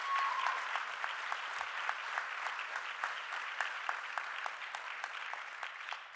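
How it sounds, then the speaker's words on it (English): Steady audience applause at an excellence award ceremony, a continuous crowd of clapping hands with some distinct individual claps standing out, moderately distant and even throughout. "I think we should give Envy another round of applause"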